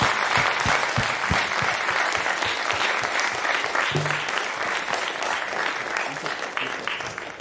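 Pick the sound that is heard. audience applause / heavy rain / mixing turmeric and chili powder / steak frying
audience applause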